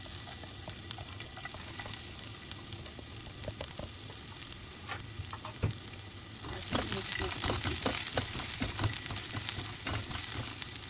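Garlic crackles and sizzles in a hot frying pan, a steady close hiss that swells louder partway through as it drops into the oil, with occasional stirring taps and pops.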